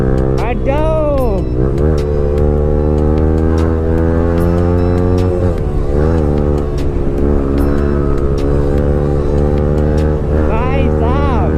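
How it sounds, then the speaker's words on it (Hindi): A Yamaha R15 V4 motorcycle at speed on a morning ride, its engine a loud, sustained drone with rising and falling rev sweeps near the start, middle and end, heard close up with wind buffeting and someone talking over it. "भाई साहब क्या बाइक भग रही है भाई"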